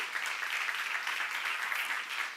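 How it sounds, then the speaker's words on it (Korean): Steady applause from an audience at a church class fills the space, a dense continuous patter of clapping hands with no voices over it. "박수 한번"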